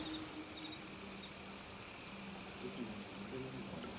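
A waterfall in Assassin's Creed Shadows rushes as a steady, dense broadband roar, with faint low tonal hums drifting beneath it and no voices.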